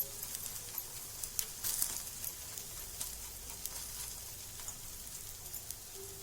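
Soft, steady sizzling of wheat-flour batter pancake cooking on a hot griddle, with faint crackles and pops throughout.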